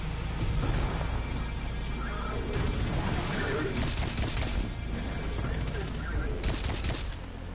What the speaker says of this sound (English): get ready for the biggest gunfight ever fought in prison